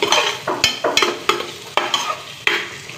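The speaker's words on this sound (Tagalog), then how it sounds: "Ayan, nilagay ko na yung spam. Kasi para maprito muna natin ito." Spam frying in a pan, a bright crackling sizzle broken by repeated scraping stirs roughly every half second, close and fairly loud with no talking.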